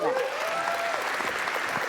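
A theatre audience at a panel event claps steadily and loudly throughout, a dense wash of hands filling the room, with a voice briefly heard over it.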